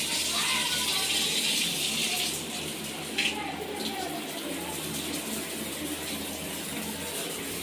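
Pressurised tank water streams steadily from a shower in a newly plumbed house, a loud continuous hiss that softens slightly after the first couple of seconds, with a brief clatter partway through.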